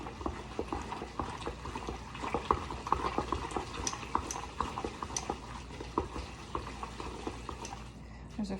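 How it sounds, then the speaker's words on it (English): Ground turkey or beef chimichanga filling is stirred in a pan with a utensil, repeated scraping and clacking strokes over a soft sizzle, close and rhythmic. "I'm gonna use this same tool to kind of stir it around"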